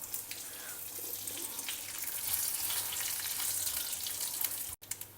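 Mustard seeds, urad dal, a dry red chilli and curry leaves sizzling in a tablespoon of hot oil, a steady faint crackle and hiss that ends with a short pause and a couple of light clatters.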